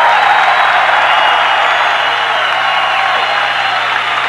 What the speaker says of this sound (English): It's a very emotional crowd here at Anaheim. They've really gone for these wrestlers.